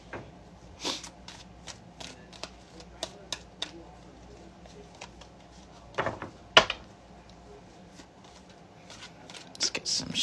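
Tarot cards are shuffled by hand in short, uneven bursts of riffling and sliding, with soft taps and pauses between them, close and fairly quiet.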